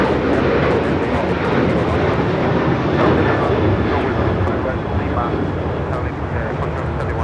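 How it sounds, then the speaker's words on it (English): An American Airlines Boeing 737-800 jet takes off at Los Angeles International Airport, a loud, steady broadband roar that holds for several seconds with muffled voices under it. "This is American Airlines 1899 taking off to Indianapolis on the 737-800."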